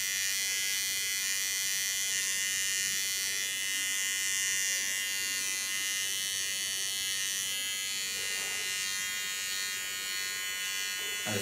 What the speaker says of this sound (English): stabilize my clipper with my left hand.